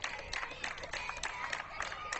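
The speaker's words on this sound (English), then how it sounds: "Fans are coming alive now. You can hear them clapping and cheering" Softball fans at a 10u softball finals game clapping and cheering in a steady, busy crowd wash, with scattered sharp claps and voices mixed throughout.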